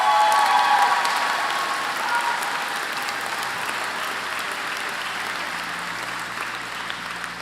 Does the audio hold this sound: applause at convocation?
yes